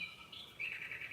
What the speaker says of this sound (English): Cuckoo clock.